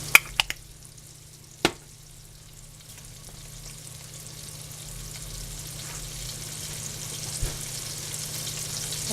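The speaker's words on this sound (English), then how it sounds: "these are cod fillets, and they're going to cook for about 3 or 4 minutes per side." Cod fillets pan-searing in a hot skillet give a steady, close sizzle and crackle that builds gradually over about nine seconds, with a few sharp clicks and knocks near the start.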